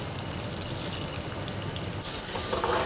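Goose liver sizzles in hot fat with garlic and thyme, a dense, continuous crackling hiss close by that grows slightly busier toward the end, with no voices.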